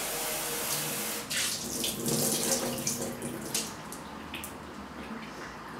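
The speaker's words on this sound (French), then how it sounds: "On rince." Running tap water rinses legumes that have soaked for twelve hours in a kitchen sink, a steady close splashing stream that shifts as the beans are swirled, with no talk over it.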